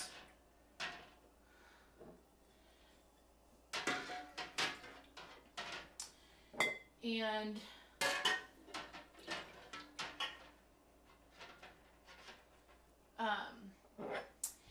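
Glass canning jars holding a little water, being warmed for pressure canning sweet potatoes, clink and knock together up close in an irregular series of sharp taps, with one brief ringing tone midway through the handling.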